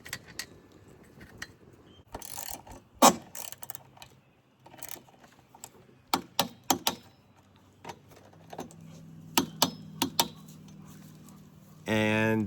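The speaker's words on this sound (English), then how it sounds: "You can hear the click on the torque wrench" A torque wrench clicks while fastening roof rails on a 2024 Honda Ridgeline, giving sharp, close clicks and clusters of metallic ticks separated by quiet gaps, ending in a short louder burst.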